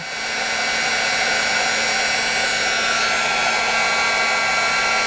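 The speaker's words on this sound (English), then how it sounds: "I just want to heat the canvas up so my ultra thick embossing powder adheres" A heat tool blows with a steady, loud whooshing roar close to the microphone, warming canvas to melt ultra thick embossing powder, continuous and unbroken throughout.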